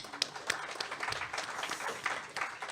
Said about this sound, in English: yeah, clap to that.